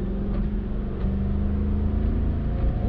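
Steady, loud engine drone from inside a 2018 Toyota Land Cruiser SUV with its 5.7-liter V8 as it accelerates, a constant low rumble with a slight rise in pitch partway through, no talking.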